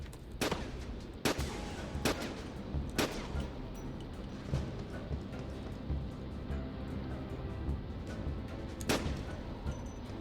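Gunfire in the video game Syphon Filter: The Omega Strain, during a timed target-shooting challenge: a handful of sharp, loud shots at irregular intervals, set against a dense, steady bed of in-game ambience.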